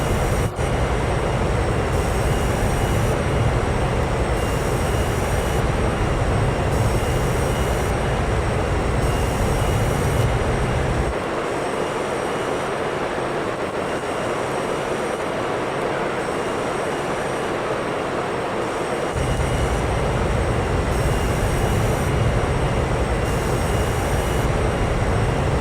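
A loud, constant Gran Turismo 4 race car engine drone with a whooshing, jet-like roar, briefly dropping its low rumble midway before returning, uninterrupted throughout.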